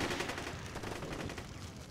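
Video game machine-gun fire from the Chechnya Mod battle for Grozny crackles as a rapid, continuous rattle of muffled bursts that stays steady and fairly distant throughout.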